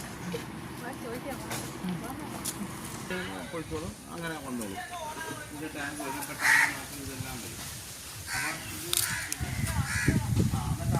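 Chickens in a coop cluck and call in short bursts amid continuous talking, with a few sharper squawks rising near the end.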